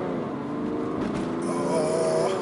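A BMW 435d M Sport diesel with xDrive pulls hard uphill out of a junction, a steady, rising engine drone heard from inside the cabin for a couple of seconds, with no talk.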